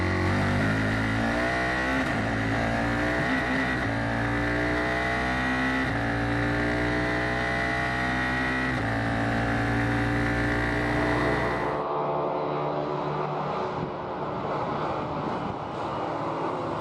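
F4 race cars scream through the esses at Circuit of the Americas, engines rising and falling steadily as the throttle is modulated through the turns, loud and continuous before the tone drops as the cars pull away.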